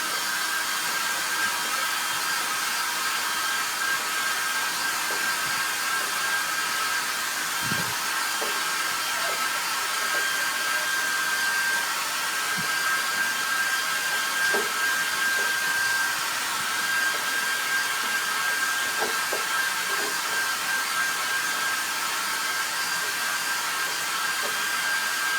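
A hair dryer blows continuously to dry a decoupage craft piece, a steady loud airy whoosh with a faint whine, broken only by a few small knocks and handling sounds.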